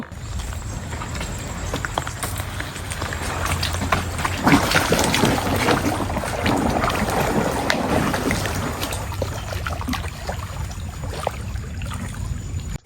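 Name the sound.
boat ride on a Sundarbans canal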